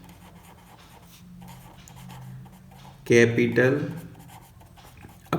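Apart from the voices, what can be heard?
writing accounting entry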